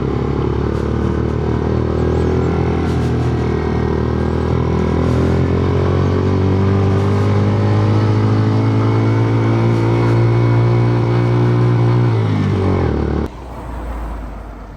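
A jeep engine drones loudly and steadily on a mountain road, close by and climbing, then cuts off abruptly near the end, leaving only quieter rumble.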